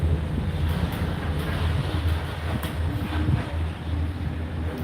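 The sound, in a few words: riding inside a Disney Skyliner gondola cabin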